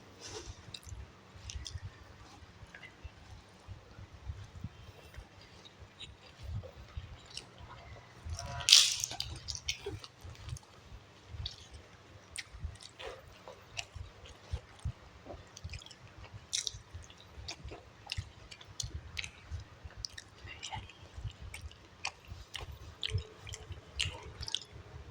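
Close-up wet chewing and biting of ponnanganni keerai thokku goes on steadily with soft squishy smacks, and one sharper, louder bite comes partway through.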